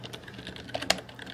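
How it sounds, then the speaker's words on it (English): Keystrokes on a computer keyboard as a script is typed into illumination engineering software, a few soft, scattered taps at close range over a low steady hum, with one sharper click standing out. "and then we begin typing"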